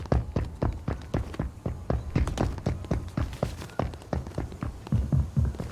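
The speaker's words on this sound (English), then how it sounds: "Footsteps below." Footsteps in the Fortnite video game coming from the floor below, a steady run of muffled, low thumping steps at a quick walking pace, close and even throughout with no talking over them.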